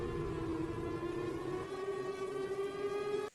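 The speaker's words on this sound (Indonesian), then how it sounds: "suara sirine menggaung dengan kencang" A loud, steady siren wails in a film scene, one sustained tone holding throughout with no voices.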